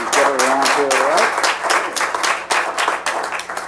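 Sustained applause fills a hall for a 2013 volunteer of the year award, dense clapping from a sizable audience with a voice talking briefly over the start before the clapping carries on alone.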